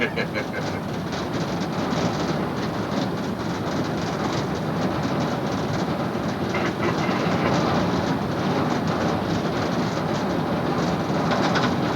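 An Amtrak Downeaster train runs at speed on high-speed track in winter, with steady loud rumbling and rhythmic wheel clatter throughout, heard from inside the cab.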